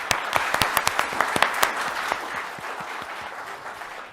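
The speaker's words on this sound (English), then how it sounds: "So could you please give a big round of applause for them?" A small audience at an astronomy talk applauds top science and engineering students, with distinct sharp individual claps standing out over a softer bed of clapping that fades as it goes on.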